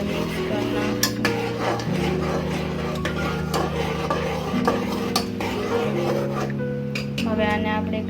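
Curry with salt and turmeric being stirred in a pot, a spoon scraping and clinking against the metal in a steady rhythm, close and fairly loud, with some background noise and no clear talk.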